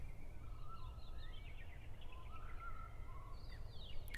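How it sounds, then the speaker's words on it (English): Birds chirping in the video game Deltarune, a string of faint high tweets and short trills over a low, steady ambient rumble. "I hear birds."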